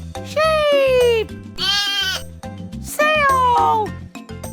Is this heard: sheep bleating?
yes